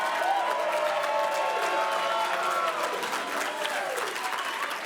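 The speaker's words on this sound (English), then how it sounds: "I want this side of the room to clap for this side of the room" Audience at a TV awards ceremony breaking into steady, dense applause that fills the room at a constant loud level, with faint voices and a few whoops mixed into the clapping.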